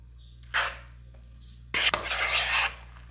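A spoon stirs salpicão salad dressed with mayonnaise in a bowl, giving a short wet scrape followed by a longer stretch of sticky mixing and scraping, close and quiet, with a low steady hum underneath.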